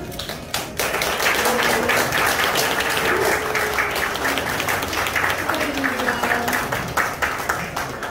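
An audience at a Rotary Club inauguration ceremony in Gwangju claps after a faint start, then breaks into loud, sustained applause that continues steadily with some scattered sharper claps, and voices murmur underneath.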